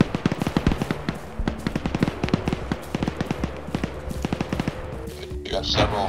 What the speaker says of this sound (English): It's not just artillery. It's gunfire as well.